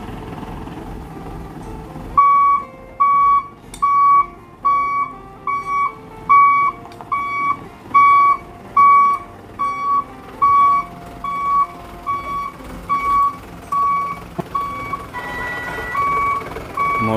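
A dump truck loaded with oil palm fruit backs up to park, its reversing alarm sounding a long run of evenly spaced, loud beeps over a low idling engine.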